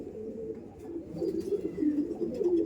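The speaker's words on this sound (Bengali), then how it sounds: "এইসব পায়রা প্রচুর ছটপটে" Kolkata Chotiyal flying pigeons coo softly in low rolling phrases, close but quiet, growing a little louder toward the end against faint background noise.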